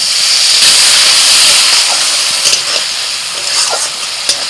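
Water poured into a pan of red chilli, turmeric, coriander and cumin powders sets off a loud, steady steaming hiss and sizzle that slowly eases, with a few small pops and bubbling near the end.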